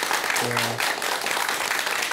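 Audience applause at a Buddhist talk show; a room full of people clap steadily for about two seconds, with a brief low tonal hum near the start.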